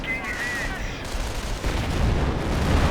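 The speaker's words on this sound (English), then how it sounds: "the barrage right there" Artillery barrage in the World War II strategy game Company of Heroes, a dense rumbling roar of distant shell impacts and gunfire that swells louder toward the end, with no pauses between blasts.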